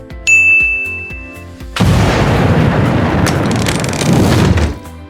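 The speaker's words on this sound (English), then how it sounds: "Kaboom? Yes, Rico. Kaboom" A sudden explosion sound effect bursts in after a bright ding, then a loud, sustained rumbling blast with crackling debris that holds for about three seconds before cutting off.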